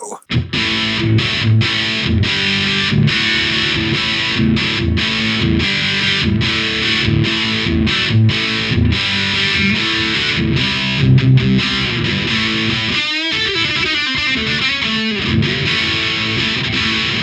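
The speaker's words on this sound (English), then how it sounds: "there is the BAD94 Distortion, the signature mini overdrive" A heavily distorted electric guitar through a BAD94 Mini distortion pedal with boosted highs and lows plays chords and riffs continuously, loud and saturated with thick lows and bright, fizzy highs.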